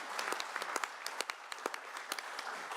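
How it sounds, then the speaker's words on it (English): Audience applause at a book tour event in Troon, a scattered round of clapping with distinct individual claps standing out over a steady patter, moderately near and fairly quiet. "who I think deserve a round of applause from us all for doing that."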